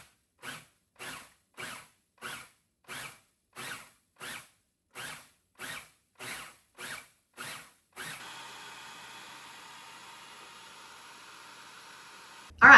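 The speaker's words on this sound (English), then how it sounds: "now I'm just going to use the pulse to chop settings so that we can chop them all up into crushed red pepper flakes" A food processor pulse-chops dried garden cayenne peppers into flakes: about a dozen short, evenly spaced whirring bursts, then a steadier continuous spin with a quieter, hissy tone, ending in a sharp louder clatter.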